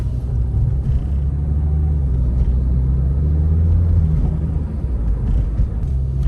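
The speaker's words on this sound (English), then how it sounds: "Has that perfect amount of pickup as soon as you hit the gas pedal." A 2012 Scion tC accelerating, heard from inside as a steady, low engine rumble with a slow rising drone, loud and continuous with no talking.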